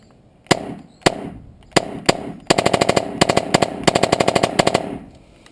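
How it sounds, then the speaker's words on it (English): A Tippmann Phenom paintball marker fires a few spaced single shots, then bursts into rapid full-auto strings of sharp, loud cracks, close by with no talking. "So here's a single shot, and then switching to full auto."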